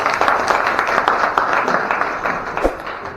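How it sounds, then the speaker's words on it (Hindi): Workshop audience in a hall applauding, a dense burst of many hands clapping together, steady and fairly loud, with a single sharp thump near the end. "अपने सभी आदरणीय के लिए जोरदार तालियां बजाइए"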